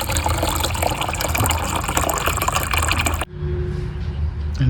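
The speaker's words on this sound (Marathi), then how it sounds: "आता मी भरतो आहे पाणी" Water pours steadily and loudly into a container set out for sparrows to drink from, a continuous close gush that cuts off abruptly and is followed by a softer trickle.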